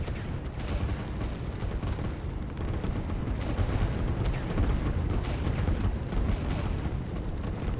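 Artillery in the strategy game Line War fires as a dense, continuous barrage of booms and blasts, steady and loud throughout without clear gaps.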